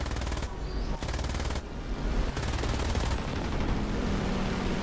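A Bf 109's guns fire in War Thunder as long, loud machine-gun bursts with a dense rapid rhythm, broken by brief pauses, over a continuous aircraft engine drone.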